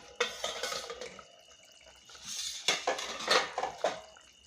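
A lid clatters off a pan of simmering fish curry in mustard oil, a few close metallic knocks and clinks in two bursts with quiet gaps between and no talking.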